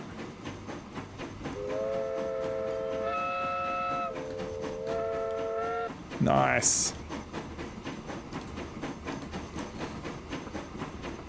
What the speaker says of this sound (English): Always great to see a new train come out of the shed.